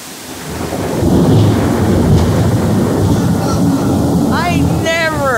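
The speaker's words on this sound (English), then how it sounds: "I never in my life felt thunder so hard under my feet." A loud, rolling rumble of thunder swells over steady heavy rain, and a voice exclaims faintly near the end.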